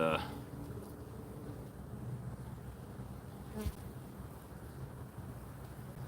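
Honey bees buzzing at an open hive during a quick hive inspection: a steady, dense, close drone of many bees throughout, with a brief puff of breath blown across them.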